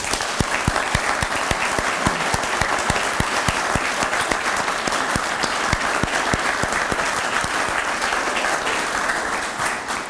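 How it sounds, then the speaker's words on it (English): A crowd at a fire department reserve academy graduation ceremony gives the graduates a round of applause, loud, dense and sustained clapping from many hands throughout with sharp individual claps standing out. "I'd like everybody to give them a round of applause"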